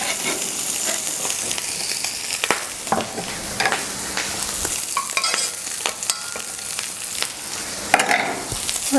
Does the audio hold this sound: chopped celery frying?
yes